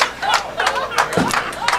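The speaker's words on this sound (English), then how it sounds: "The crowd is loving this." A crowd at a bowling tournament final claps and cheers in quick, rhythmic bursts. The applause is fairly close and loud, with excited voices mixed in.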